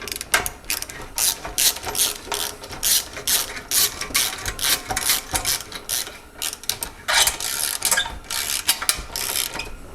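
A socket wrench ratchets on a bolt while reassembling a 74-year-old Briggs and Stratton engine, giving rapid bursts of close, sharp clicking in uneven back-and-forth strokes with brief pauses between.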